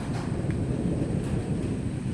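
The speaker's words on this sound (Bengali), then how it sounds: "বাজ পড়ে গেছে দূরে" Distant thunder after a lightning strike rolls as a low, continuous rumble at the start of a rainstorm, faint and unbroken with no talking.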